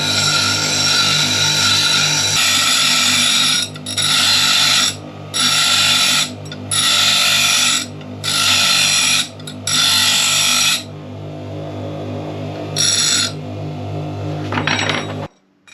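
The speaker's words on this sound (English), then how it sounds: "And let's grind this down." A metal ground spike for a JPC-12 antenna is ground down with a power tool, in about six loud, hissing bursts of a second or two each, set against a steady motor hum.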